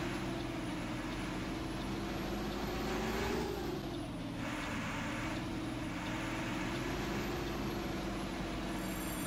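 A bus diesel engine in the OMSI 2 driving simulator labors up a hill under manual clutch control, a steady, loud, low droning roar that wavers slightly in pitch throughout, with no voices.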